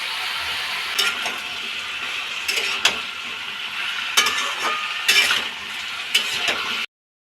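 Potato and pointed gourd fry in a pan with tempering spices and onion: a constant sizzle runs underneath while a spatula scrapes and stirs at irregular intervals.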